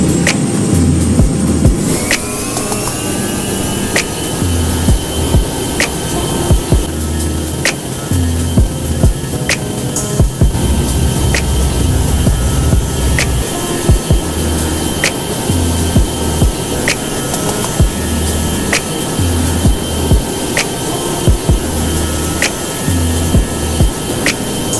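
Airbus A321neo taking off in the GeoFS flight simulator: a loud, steady engine roar with a rising whine as thrust spools up, plus repeated small clicks and bumps from the runway roll.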